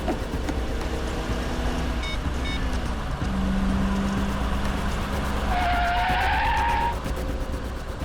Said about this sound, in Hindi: जरा गाड़ी आराम से चलाओ